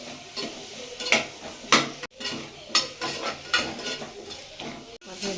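Carrots and beans stirred in a cooking pan with a spoon, giving repeated scraping clatters in an irregular rhythm over a faint sizzle, close and moderately loud.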